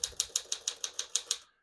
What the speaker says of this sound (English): all the keys type nice and none of them skip or stick